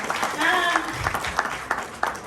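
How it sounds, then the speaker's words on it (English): An audience at a Ghanaian event for young farmers gives a round of applause, scattered claps swelling after a voice speaks and carrying on with more talk layered on top. "shall we give them a hand of applause"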